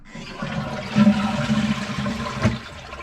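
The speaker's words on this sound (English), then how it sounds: "I'm gonna flush the toilet." A household toilet is flushed during a check for a water leak through the ceiling below a bathroom. A close rushing swirl of water surges and gurgles, with a brief clunk near the end.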